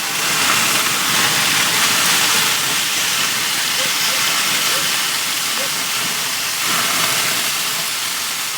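Beer sprinkled over a grill flare-up gives a loud, steady hiss of steam that runs unbroken throughout, with a faint murmur of talk beneath it.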